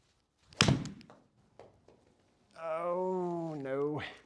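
A Mizuno golf iron strikes the ball on a draw shot, giving one sharp, close thunk. A long, drawn-out vocal sound follows a couple of seconds later.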